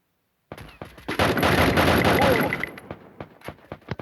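Gunfire in the mobile battle game Free Fire: a sudden loud burst of sustained automatic fire, then a string of separate sharp shots tapering off, close and punchy.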